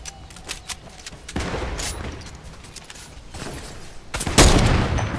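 Gunfire from NPCs in the Fortnite video game, scattered sharp shots and bursts with a louder cluster near the end, moderately close, no speech over it.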